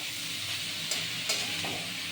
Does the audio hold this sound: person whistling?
no